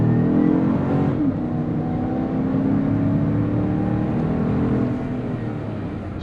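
A 2020 GMC Yukon SLT, a large SUV, accelerating hard from a standstill toward 60 mph, its engine a loud, sustained drone climbing steadily in pitch, heard from inside the cabin with no voices.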